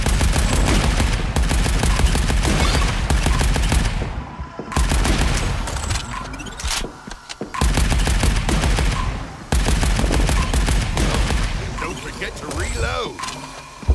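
An assault rifle fired from the hip in Arcadegeddon rattles out several long bursts of rapid automatic fire, loud and close, separated by brief pauses.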